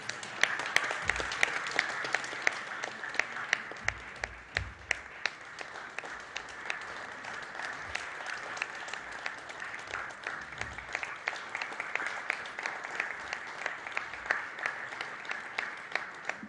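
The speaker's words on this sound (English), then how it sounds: "We can continue the claps going." Steady applause from an audience at a corporate logo unveiling ceremony, dense continuous clapping filling the whole stretch with sharp individual claps standing out, no talk over it.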